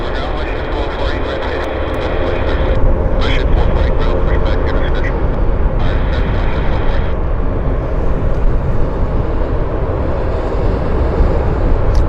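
A WestJet airliner at Vancouver Airport gives off a steady, loud engine roar that stays broad and constant throughout, with faint higher whines coming and going above it.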